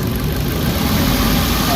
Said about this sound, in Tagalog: Medyo smooth na yung takbo ng makina.